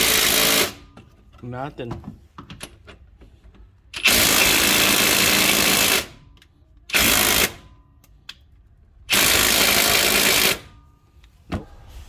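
A Ridgid Octane 1/2-inch drive impact wrench hammers at an engine bolt on a Honda V6 3.5L, firing in three loud bursts of roughly two seconds, one and one and a half seconds, separated by pauses with faint handling noise and brief talk.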